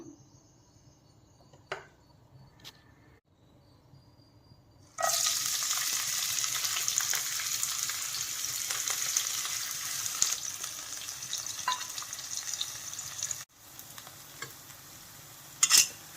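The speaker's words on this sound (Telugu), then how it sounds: "ముందు ఉల్లిపాయలు వేయించుకుందాం." Onions frying in a generous amount of oil in a pan, a quiet stretch with a few clinks and then a sudden steady loud sizzle with scraping stirs, cutting out briefly near the end.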